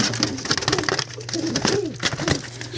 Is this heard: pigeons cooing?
yes